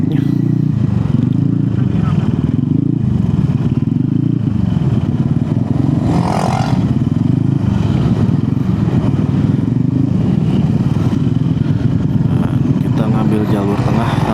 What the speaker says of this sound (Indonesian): Jalur tengah karena di jalur kiri terlalu sempit untuk motor. Ini macetnya macet total nih.